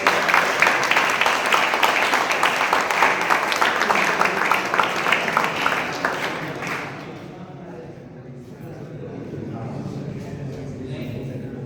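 An audience gives warm, dense applause to welcome guests at a gathering. The clapping is loud at first, then fades out over several seconds into a low murmur of the room.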